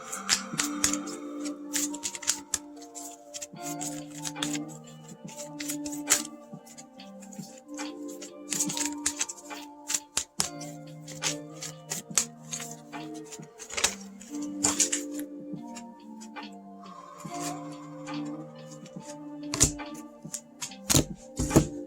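Oracle cards are shuffled by hand in a quiet room, making repeated soft riffling and tapping bursts in an irregular rhythm over nearly twenty seconds, close up and fairly faint.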